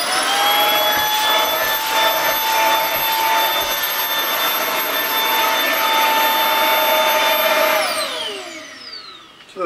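A cordless vacuum cleaner sucks up dirt while cleaning inside an RV, giving a loud close high-pitched whine that holds steady, then winds down near the end before a final bump.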